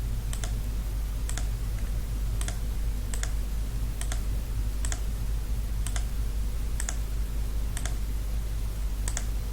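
Computer mouse clicking in Scratch Desktop, sharp isolated clicks at a steady, roughly even pace over a constant low hum, with no talking.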